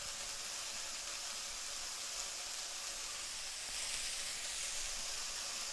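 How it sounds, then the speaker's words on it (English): Ginger sizzling in hot oil in a wok for Kung Pao chicken, a steady, close, broadband frying hiss that swells slightly toward the end, with no talking. "So now I'm going to add in the ginger,"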